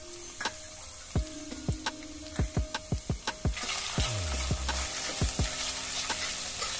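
Cumin seeds and ginger garlic paste fry in hot oil with a steady sizzle, punctuated by rapid close crackles and pops, for a chana chaat preparation.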